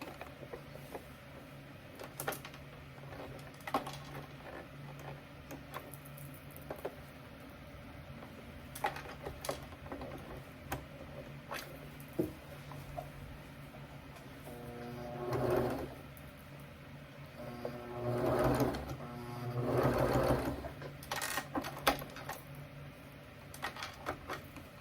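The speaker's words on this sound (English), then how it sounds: "what I'm going to do here is I'm going to sew it now" A sewing machine stitches a drawstring backpack, with a steady mechanical whirr and rapid needle clatter broken by pauses, and louder bursts of faster stitching toward the end, close and fairly quiet.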